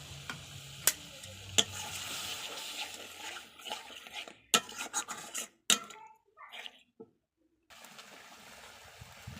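Coconut milk goes into a pan of frying spices for a prawn malai curry, with a soft crackling sizzle, scattered sharp utensil clinks and scraping stirs, quieting to a brief near-silence before the faint sizzle returns.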